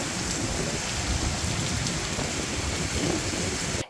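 Steady, dense rain pours on a road beside the Turag River at Gutiya, Gazipur, soaking a parked motorbike in a continuous even hiss with a soft low rumble, and no voices.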